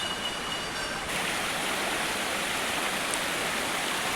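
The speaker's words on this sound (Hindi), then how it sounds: "अभी झरने के नीचे आ चुके हैं" Amjhara waterfall heard from close below, a dense, loud, continuous roar of rushing, splashing water with no voices over it.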